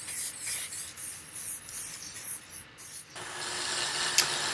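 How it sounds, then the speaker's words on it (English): Ironwork fittings on a wooden projector box are polished by hand, giving a faint, steady rubbing and rasping with short scratchy strokes. The texture shifts slightly partway through. "I'm just polishing up all the ironworks"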